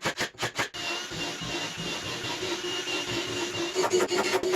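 A saw rasps through small wooden strips cut as gussets for a planter box, starting with several quick separate strokes, then a steady grinding stretch, then faster short strokes at the end, close and fairly loud.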